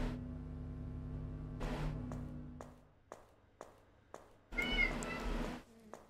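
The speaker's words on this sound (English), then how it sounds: "There's a cat yelling for his mother here in my apartment." A cat meows loudly indoors in an apartment, a long drawn-out yowl followed by several short sharp cries and another long loud wail, clear and close.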